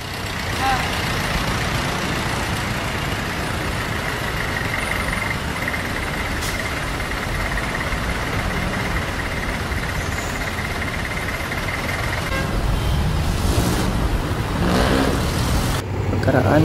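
A jeepney on a busy street heading toward a university, its engine a steady broadband rumble amid continuous traffic noise for the whole stretch, with a few louder passing swells near the end.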